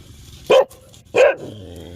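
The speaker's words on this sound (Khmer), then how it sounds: "ដេញឆ្កែបងប្អូន" A dog barks twice, loud and close, with two sharp separate barks about half a second apart over a quiet background.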